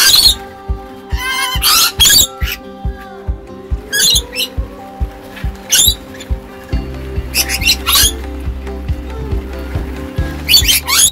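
A flock of 20 to 30 parrots squawks and screeches in a Queensland gemfields camp, with harsh calls repeating in loud bursts over a steady rhythmic clicking background.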